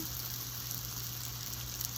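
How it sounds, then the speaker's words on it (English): A steady, close sizzle of meat frying in a hot pan, a dense crackling hiss that stays even throughout with no talking. "Ooh, you hear that sizzle?"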